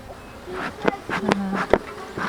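Honeybees buzz around an opened hive, a steady insect drone with several louder swells as individual bees pass close by.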